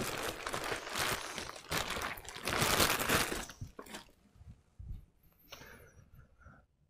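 A plastic bag rustles and crinkles loudly as it is pulled off a server enclosure, the scrunching fading to faint, sparse handling sounds.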